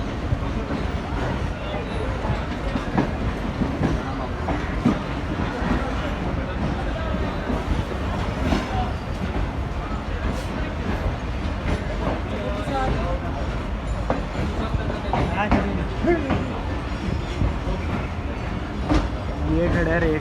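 The Millat Express, pulling away from platform 2 on its run from Mandi Bahauddin to Jahania, gives a steady loud rumble and clatter of wheels on rails for the whole stretch, with a voice heard over it.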